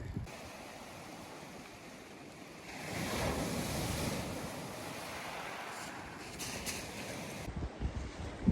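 Surf rolling onto a beach next to a small inlet and stony stretch, a soft continuous wash that swells into a fuller rush midway, faint and distant with light wind buffeting the microphone and no voices.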